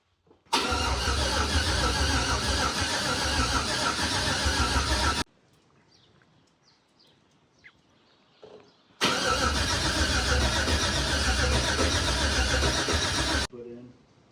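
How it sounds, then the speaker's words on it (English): The engine of an LS-swapped OBS GMC K2500 truck cranks loudly in two long bursts of about five seconds each during a priming cycle, with a quiet pause and faint sounds between them. "So we're going to be going through the priming cycle one last time, and then we should be ready to start it."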